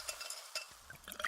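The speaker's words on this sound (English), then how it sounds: "Listen to that endless pour." Pepsi Zero Sugar cola pours into a glass, giving a short run of light clinks, fizzing and trickling liquid, close and fairly quiet with no voices.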